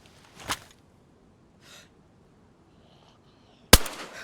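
A single loud, sharp gunshot is fired at a zombie in the video game DayZ and rings out briefly. Before it come a short burst and a fainter rustle.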